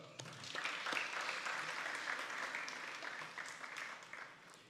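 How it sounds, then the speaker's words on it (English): Graduates at a Gingerland Secondary School graduation ceremony applaud themselves, a fairly faint, broad burst of crowd clapping that swells and slowly tapers over a few seconds. "Give yourselves a clap."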